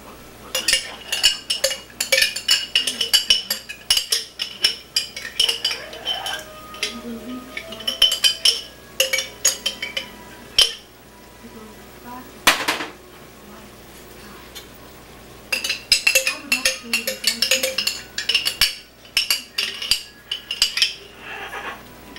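A metal spoon repeatedly scrapes and clinks against a pan in busy, irregular bursts while sloppy joe sauce is spooned in, with a brief pause midway and faint sizzling underneath.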